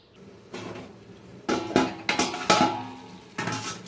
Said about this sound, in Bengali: এই যে জল অল্প দেবো, দিয়ে ঢাকা দিয়ে দেবো